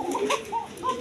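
Male Pashiraj pigeon cooing in a thin, high voice, a few short close coos in quick succession, alone without talk.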